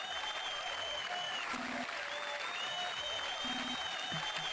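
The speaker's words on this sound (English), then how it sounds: "Sampled applause noise." Steady sampled applause with a crowd-like wash in the video game Mother 3 runs continuously at even loudness, with faint electronic tones underneath.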